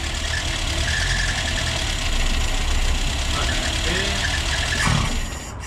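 A car engine idles roughly and is blipped from inside, a steady close rumble that swells briefly with the throttle and then settles, with voices talking over it.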